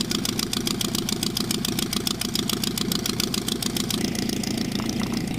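A Lobet Ganagobie light aircraft's engine idles before takeoff, a steady close rapid pulsing drone that shifts slightly in tone near the end, with no voices.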